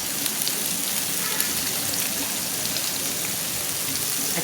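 Vegetables sizzle steadily in a hot pan with black pepper and salt, a dense, even hiss of frying that carries on without pause.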